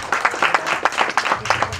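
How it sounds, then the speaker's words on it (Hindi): Audience at a film trailer launch for Teri Bhabhi Hai Pagle clapping, a dense patter of many hands in rapid uneven bursts, fairly close and loud. "नैन्सी के लिए भी ज़ोरदार तालियां हो जाए"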